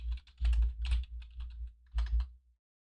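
Close, clicky bursts of typing on a computer keyboard come in uneven clusters of keystrokes with short pauses between, then stop abruptly into silence.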